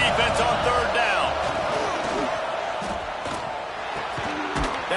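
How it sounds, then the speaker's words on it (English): A college football stadium crowd at an Ohio State versus Georgia game roars in a loud, sustained wall of noise on third down, with shouts and scattered whistles through the dense din. "Decibels rising as the crowd gets behind this defense on 3rd down."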